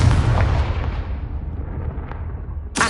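A Confringo blast spell in a Harry Potter video game bursts as one loud, heavy explosion with a deep rumbling boom that slowly fades, followed by a sharp new burst at the end.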